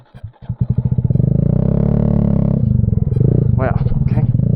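A Honda Grom motorcycle engine putters and revs during slow trail riding in second gear, a close, throbbing rhythmic exhaust beat that swells, holds steady, then stutters, with a voice talking briefly over it.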